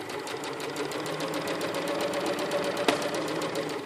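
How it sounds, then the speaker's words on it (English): A sewing machine runs steadily and close up while top-stitching around the neck facing of a tank top, a fast even whirring rattle with one small click near the end. "And then just stitch it all the way around"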